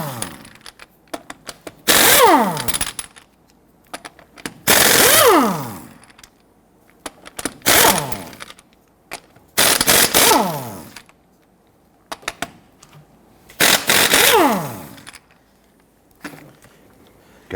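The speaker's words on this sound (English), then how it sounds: "Using a 19mm socket, I'm going to go ahead and loosen and remove our lug nuts." A socket wrench loosens and removes the wheel lug nuts on a Hummer H3, with five loud bursts of rapid ratcheting spaced a couple of seconds apart, close up, and small clicks between them.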